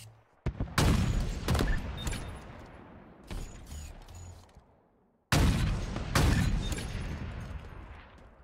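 Bursts of gunfire in a Halo match, loud rapid fusillades in clusters separated by short pauses, with thumping impacts and no voices.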